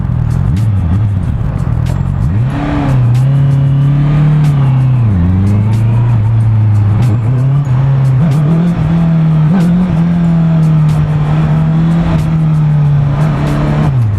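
Engine of a 2018 Honda CBR650F motorcycle pulls hard in a short first gear, a loud, close, sustained drone that dips and rises with throttle changes and continues without a break.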